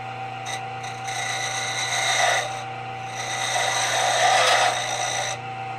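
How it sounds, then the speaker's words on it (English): A small hand tool rasps and scrapes steadily against a carved wooden beard bead, refining its shape with a continuous close rubbing that swells and eases in two long passes, with no talk over it. "I'm going to come back with a finer tool and refine that shape a little bit"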